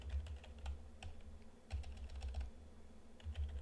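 A terminal command is typed on a computer keyboard, with quick close clicks and taps coming in short uneven bursts and brief pauses between them.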